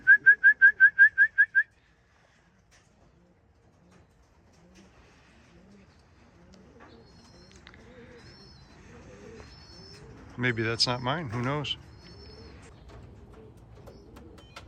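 At a racing pigeon loft, a quick series of electronic beeps sounds first, then soft low pigeon coos murmur in the background for several seconds, with someone speaking briefly in between.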